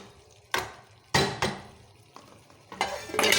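Keema and potatoes frying in a pan, stirred with a spoon in several sharp scraping strokes that leave a soft sizzle between them, with the stirring getting busier toward the end.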